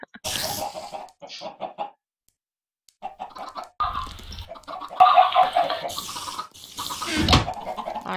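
Chickens clucking in the video game Minecraft, intermittent bursts of clucking and squawks broken by silent gaps, mixed with other scattered game noises, moderately loud.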